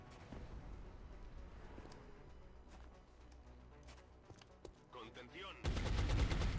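Suppression gunfire in the video game XCOM: Enemy Within, scattered shots and bursts over a low game rumble, building to a loud, dense volley near the end.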